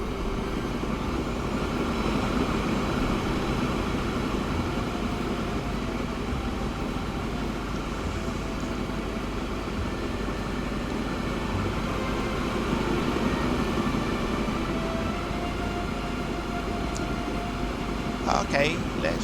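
A train in the Transport Fever 2 simulation game runs along the track with a steady, droning rumble and hum that holds for a long stretch, with light clicks near the end.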